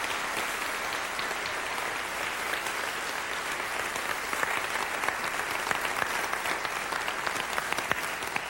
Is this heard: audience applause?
yes